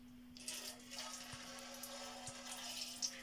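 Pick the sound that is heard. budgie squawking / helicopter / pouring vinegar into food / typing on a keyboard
pouring vinegar into food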